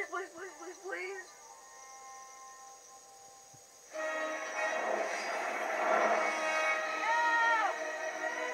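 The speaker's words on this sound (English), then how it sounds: "Is that a train?" A train rumbles past with a strong, steady roar and sounds its horn in long drawn tones, loud and near, with excited voices speaking over it at the start.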